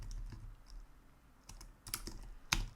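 Someone types on a computer keyboard while writing a database table definition in DB2 for IBM i: a few sparse, fairly quiet key clicks and taps, close by, with no speech.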